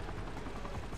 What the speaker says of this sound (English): I do like this chopper, by the way.